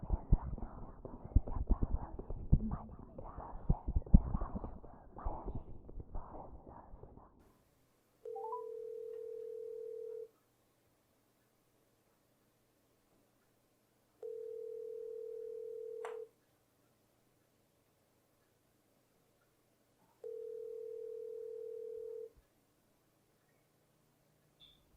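A phone call's ringback tone purrs three times at even intervals, each long tone followed by silence, right after a stretch of rustling noise.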